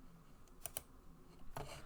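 A computer mouse clicked a few times at a desk, quick sharp clicks in small bursts, close and quiet.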